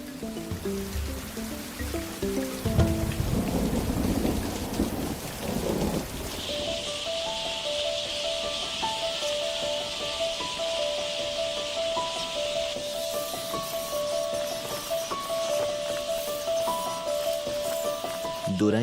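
Rain pours steadily in an African tropical forest at night, a broad hissing wash with rumbling thunder early on, then continuous downpour under a faint tonal hum.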